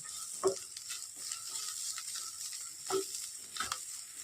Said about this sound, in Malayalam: ഞാൻ തേങ്ങി ചെറിയിട്ട് വറുത്ത് വെക്കുക കേട്ടോ അരച്ച് വെക്കണില്ല വറുത്ത് വെക്കുകയാണ്